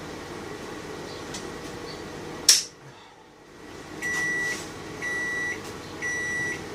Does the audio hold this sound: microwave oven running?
yes